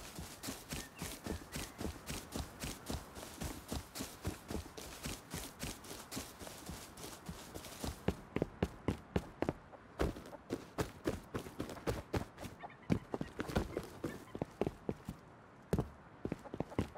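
Horse hooves clip-clop steadily in the survival video game Rust, a quick rhythmic stream of close hoofbeats that grows crisper and more distinct partway through, with no talking.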